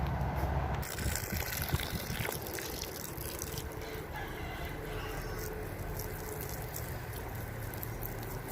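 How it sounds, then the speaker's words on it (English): Water poured over freshly sown garden seeds of gherkins, radishes and carrots: a steady, soft gushing and splashing stream that continues evenly throughout, fairly quiet outdoors with faint background birds. "and all I have to do is just water it in."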